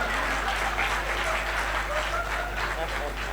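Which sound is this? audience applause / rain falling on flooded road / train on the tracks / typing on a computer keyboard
audience applause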